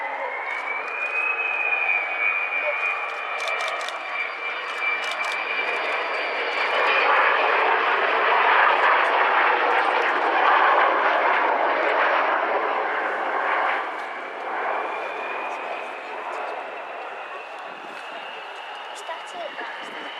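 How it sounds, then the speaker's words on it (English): Avro Vulcan XM607 B2 bomber passing at an airfield display at Waddington, a loud sustained jet roar that swells toward the middle with a rising whine, while a commentator speaks over the public address. "the aircraft on the far side of the airfield, Vulcan XM607"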